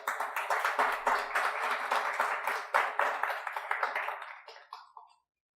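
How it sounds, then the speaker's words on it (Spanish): Congregation applauding in a church, a dense wash of many hands clapping steadily and fairly loudly, then thinning out and fading to silence at the end. "Denle un aplauso al Señor"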